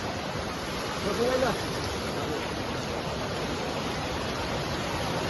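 Water rushing steadily along a village river in the Konkan, a broad continuous roar close by, with a brief voice rising over it near the start.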